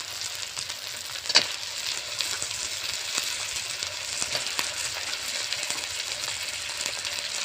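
Mutton goes into a pan of well-fried spice masala and sizzles steadily up close, with a sharp metallic clink early on and lighter scrapes as it cooks.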